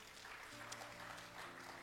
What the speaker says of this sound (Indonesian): Tepuk tangan bagi Roh Kudus dulu.